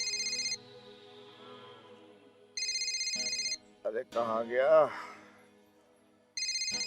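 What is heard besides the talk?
telephone ringing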